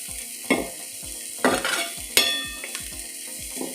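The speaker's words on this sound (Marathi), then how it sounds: "आपला कांदा छान असा परतवून घ्यायचा आहे" A large onion sautés in a pan for kurdu bhaji, with a steady close sizzle broken by several sharp scraping stirs of a spoon against the pan.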